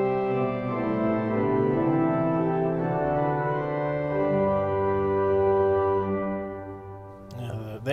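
A Kilgen pipe organ in St. John Nepomuk Church, St. Louis, sounds its open 8-foot and 4-foot principal stops together, a full sustained chord of moving notes ringing steadily before releasing into a brief tail.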